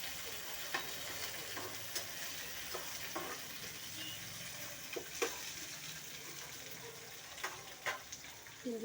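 Onions, curry leaves and mint leaves fry in oil in a pan, a continuous soft sizzle broken by a handful of sharp spoon clicks and scrapes, close and fairly quiet.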